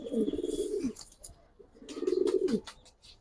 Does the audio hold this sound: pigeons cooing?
yes